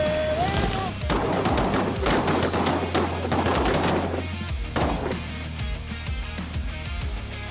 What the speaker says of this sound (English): we shot a pile of ducks, and Ziggy never quit.